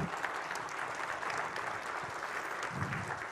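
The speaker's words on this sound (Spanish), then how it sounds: "Dale un aplauso al Señor" A church congregation applauds during a sermon, giving continuous, full-room clapping with no voices over it.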